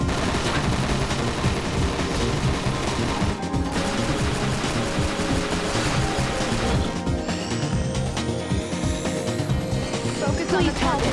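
Dense, continuous gunfire and explosions from The 3rd Birthday, loud and busy throughout with game music and effects layered underneath.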